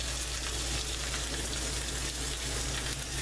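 A New York strip steak searing in a cast iron skillet gives a constant, dense sizzle, close and even throughout with no talk.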